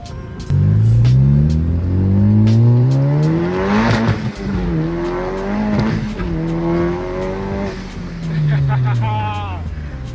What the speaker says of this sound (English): It's just the way the car sounds stock.